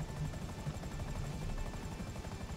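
Buzzard helicopter in GTA Online with a steady, close rotor thump and engine buzz that runs throughout without pause. No voices can be made out.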